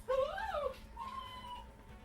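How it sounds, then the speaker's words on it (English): A pet dog whining indoors, a high rising-and-falling whimper followed by a longer, thinner drawn-out whine, faint and close by. "That would be my dog whining because he hears something going on in the rest of the house."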